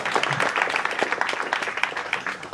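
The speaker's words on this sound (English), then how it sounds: "you can give us a clap." Gala dinner guests clap together, a moderate burst of scattered hand claps that holds fairly steady for a couple of seconds.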